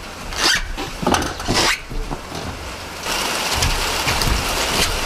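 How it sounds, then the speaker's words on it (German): Heavy rain pours down at an outdoor carport construction site with a trapezoidal sheet-metal roof. A dense, steady hiss runs throughout, and louder bursts of splashing and clattering stand out in the first half. "Schüttet wie aus Eimern."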